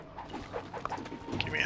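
Hound creatures in the Dungeon Keeper video game growl and pant in short yips and whimpers, mid-level against game ambience, with a brighter burst near the end.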